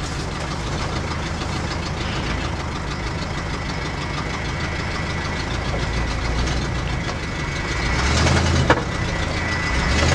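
1965 Ford Galaxie driving along a road, its engine giving a steady, loud drone with a faint whine running through it, swelling slightly near the end.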